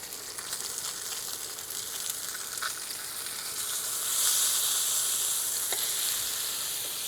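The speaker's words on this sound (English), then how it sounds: "I'm going to go skin side down for this pan sear" A salmon fillet sears skin side down in a hot pan with a steady, close sizzle that swells louder partway through, with no voices.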